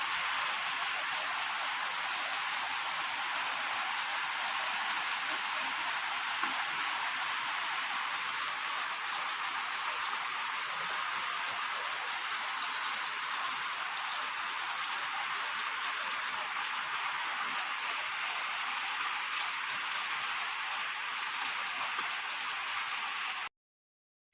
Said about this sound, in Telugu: ఈరోజు వర్షం ఎలా